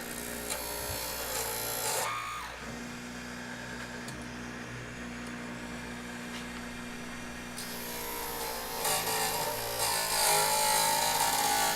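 A lathe turning down a wooden screwdriver handle to fit its ferrule, a steady motor hum with a cutting tone that shifts as the tool engages and eases off, close in a quiet workshop.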